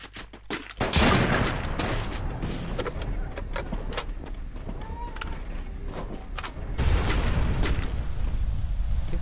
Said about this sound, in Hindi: कौन गोली चला रहा है?